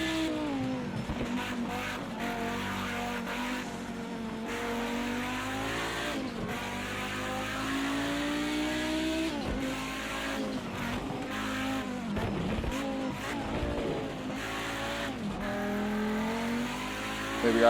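Audi Group B Quattro race car in Project CARS 2 at Bathurst, its engine loud and alone, climbing and falling in pitch through repeated gear changes, with short cuts at each shift and steady high-revving drive between them.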